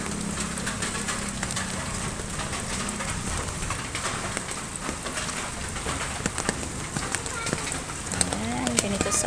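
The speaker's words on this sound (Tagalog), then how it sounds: "Kasi maghapon na itong ulan. Kagabi pa. Maghapon magdamag na yung ulan na yan." Heavy, steady rain pours down after falling all day and night, a constant hiss of drops striking surfaces close by, with voices faintly underneath.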